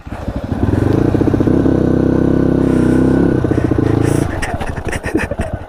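Motorbike ride on a mountain road toward Kalinchowk in Nepal, the engine droning loud and steady close by, with clatter and rattling over the rough surface as the bike slows near the end.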